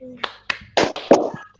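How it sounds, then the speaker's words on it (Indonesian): Children in an Indonesian classroom doing a rhythmic clapping cheer, a few sharp claps in a short pattern mixed with young voices chanting along. "Tepuk hebat."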